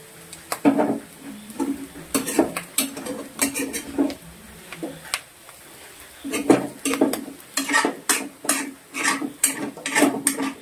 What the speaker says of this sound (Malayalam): കക്കയിറച്ചി ആഡ് ചെയ്ത് നന്നായിട്ട് ഇളക്കുക.